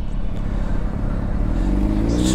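Idling and revving car engines fill the air at a crowded car meet with police present, a steady close rumble with occasional rising revs and mechanical clatter throughout.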